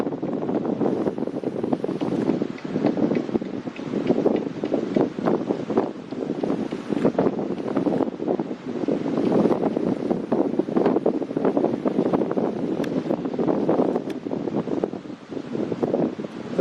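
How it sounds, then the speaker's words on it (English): Steady, loud wind buffets the microphone on a beach by the SpaceX Starbase launch site, a continuous rushing roar with gusty swells and no talk. "But over here by the beach, we got a lot more wind."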